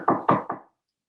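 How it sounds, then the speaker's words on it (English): Three firm knocks on a wooden door, evenly spaced and close, ring out alone, and the last one trails into silence. "I wasn't beating down the door. I was just knocking."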